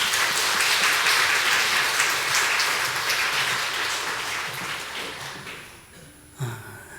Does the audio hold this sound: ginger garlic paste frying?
no